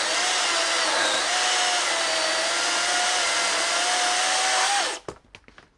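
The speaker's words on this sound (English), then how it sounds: "the powerful brushless motor and the chain speed of 15 meters per second ensure that even this cut is done quickly and smoothly" A DeWalt 54/60V DCM575N cordless chainsaw with a brushless motor cuts through wood, giving a loud, steady high-pitched whine for about five seconds before cutting off abruptly and leaving a few faint knocks.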